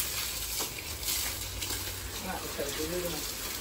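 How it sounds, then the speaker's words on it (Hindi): Water sprays steadily from a hose over potted plants and a staircase, a continuous close hiss with a brief voice murmuring near the end. "पौधों के साथ साथ जो है ना स्टेयरकेस को भी पानी दिया जा रहा है।"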